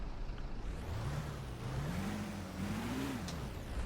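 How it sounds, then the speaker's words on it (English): A small gas car engine in a video game revs up and back down over a few seconds, a steady mid-pitched whine rising and falling under a constant rushing background. "Alright, yeah, this one should be gas, because usually these smaller ones are pretty instant startup. Let's check a rev."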